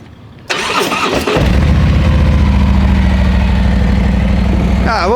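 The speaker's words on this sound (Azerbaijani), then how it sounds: "İndi sizin üçün motosikletlərin xodlayıcı səslərinə baxacaq." A sport motorcycle engine cranks and catches, then settles into a loud, steady idle close by, with a brief talking voice before the start.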